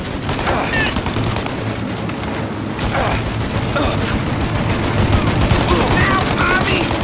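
Sustained gunfire in a shootout in the video game Mafia Definitive Edition, with dense rapid bursts and overlapping shots continuing throughout, loud and close, with shouted voices mixed in.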